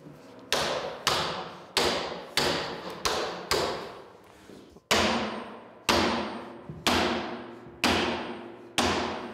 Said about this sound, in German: Die letzten Hammerschläge erledigt der Chef alleine.